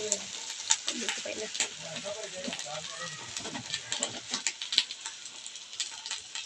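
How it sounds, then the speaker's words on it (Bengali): Soaked polao rice stir-fried in a pan for chicken biryani makes a busy, crackling sizzle with repeated stirring scrapes, a voice faintly talking beneath it early on. "চালগুলো ভালো করে মাখিয়ে নিতে হবে, কষিয়ে নিতে হবে"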